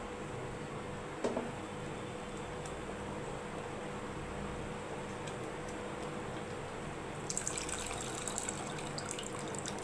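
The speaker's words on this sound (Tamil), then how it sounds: "சின்ன சைஸ் புளி அளவுக்கு கரைச்சி வச்சுருக்கேன் அது ஊற்றிக்கலாம்" Quiet, steady trickle of tamarind water poured into a pot of eggplant curry, with a brief knock early on and a brighter splashing burst toward the end.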